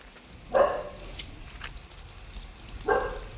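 A dog in Madurai barks twice, with the two sharp barks a couple of seconds apart, moderately close, over a steady background hiss of rain.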